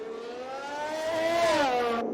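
A race car engine in a racing video game at Monaco revs hard, a loud, smooth, high whine rising in pitch, peaking, then dropping as the driver lifts off, ending abruptly.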